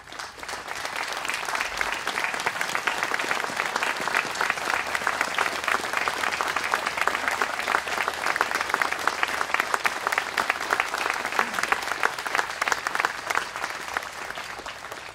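At an outdoor Memorial Day observance in Walnut Creek, a large crowd gives sustained applause to active duty service members and veterans, a steady wash of many hands clapping that holds for the full fifteen seconds without a break.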